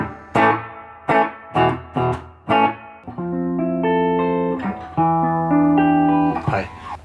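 A Gibson ES335 electric guitar played through a Roland CUBE Street EX amp with the reverb turned up: several separate strummed chords ring out, then sustained, shimmering chords follow, bright and fairly loud with a lingering tail and no talking.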